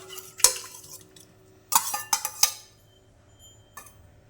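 Soaked gond katira is spooned into a cooking pot for a summer sharbat. A few faint clinks and scrapes of a utensil against the pot come in short bursts, near and quiet, with no talking.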